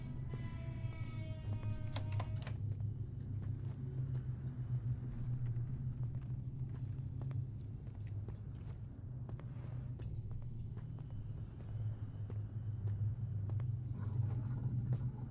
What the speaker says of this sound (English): See, I hear the truck. We need to make it to that truck. I can hear it.